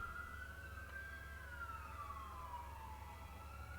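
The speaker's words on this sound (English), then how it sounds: "That siren, if you can hear it, is in the real world." A distant emergency siren outdoors wails, its pitch slowly rising then falling, faint beneath a steady low rumble of background noise while Batman: Arkham City is played.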